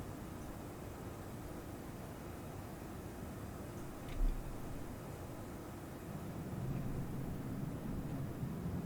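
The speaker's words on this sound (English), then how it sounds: "You can also hear the soundscape is kind of changed now that we are kind of almost behind the engines." Inside the cabin of an Airbus A340 in a flight simulator, engine noise from behind the wing makes a steady, muffled broadband roar, even and moderately quiet throughout, with a brief faint knock midway and no speech.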